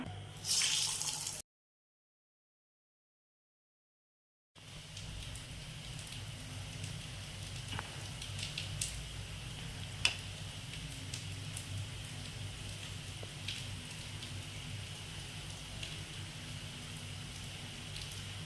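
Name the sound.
sweet green gram bonda balls frying in oil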